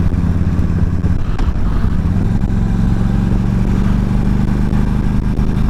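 A new motorcycle rides along with a steady, loud engine drone and low rumble throughout, slight clatter near the start, no talking.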